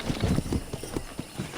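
Horse hooves clip-clop in a steady, even walking rhythm on ground in Red Dead Redemption, a quick run of close, moderately loud thuds heard alone.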